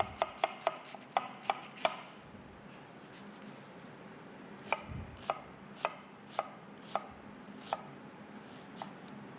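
Half an onion is chopped on a board, with a quick burst of sharp knife taps followed by slower, evenly spaced single chops, close and fairly quiet.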